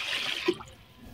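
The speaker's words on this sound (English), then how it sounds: "Now add water and allow the water to be slightly above the level of the rice." Water poured from a tap or jug into a pot of rice for a large-batch Nigerian party-style fried rice, a brief soft rushing splash that fades quickly and sits close and fairly quiet.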